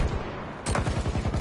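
Rapid bursts of automatic gunfire in the video game Battlefield 2042, a sharp loud volley starting partway through and continuing in a steady rhythmic stutter over a busy battle background.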